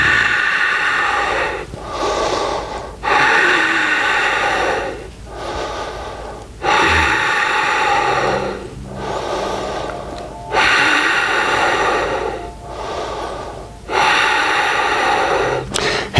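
Deep, forceful breaths repeat in a steady rhythm, each long inhale and exhale loud and close, taken during a dumbbell workout focused on breath training; no one speaks.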